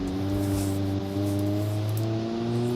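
A damaged car with a blown tire drives on in the Automation game, its engine holding a steady droning tone with slight pitch shifts, loud and continuous throughout.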